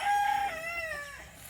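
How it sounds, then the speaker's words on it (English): A naked neck silkie rooster crows once close by, a clear drawn-out call that starts on a steady held note and then slides and wavers down before trailing off, with no voices over it. "naked neck silky rooster."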